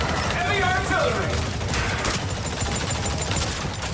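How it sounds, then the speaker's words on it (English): Heavy artillery pounds away in the Exoprimal video game, a dense, continuous barrage of booms and crackling fire, loud throughout, with a voice speaking over the chaos. "Heavy artillery!"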